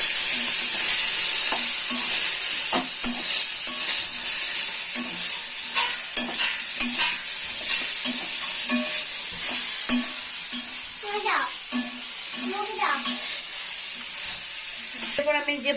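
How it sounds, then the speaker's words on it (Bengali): Vegetables for Bengali shukto are stirred in a hot pan with cumin and turmeric powder, giving a continuous sizzle with a rhythmic spatula scraping and tapping, close and steady, with a few brief higher squeaks near the end. "ভালো করে আমি নাড়িয়ে নেব"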